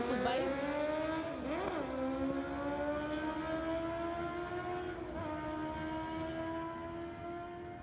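Two drag racing motorcycles, a green bike and a purple bike, accelerate hard down the strip, a loud sustained engine roar rising steadily in pitch with gear shifts, faint commentary underneath.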